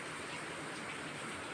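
Heavy rain falls in a steady, dense hiss with no break, continuous and fairly loud, with no voices over it.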